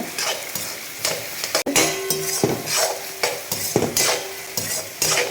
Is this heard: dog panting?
no